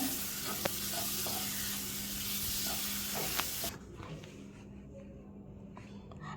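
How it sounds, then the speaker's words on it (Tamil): Chopped ripe tomatoes sauté in a pan for a kofta curry, giving a loud, steady sizzle with light stirring that cuts off abruptly partway through, leaving quieter room sound. "ஒரு நாலு தக்காளி மீடியம் சைஸில் நல்லா பழமாக நறுக்கி நான் வந்து சேர்த்துக்கிறேங்க இதையும் நல்லா வதக்கி விட்டுருங்க"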